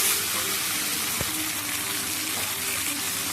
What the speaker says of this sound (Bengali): কষানো হয়ে এসছে, এবার আমরা জল দেবো